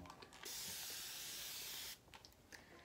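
A water spray bottle misting hair gives one continuous hiss of about one and a half seconds, close and fairly loud, set between quieter handling sounds.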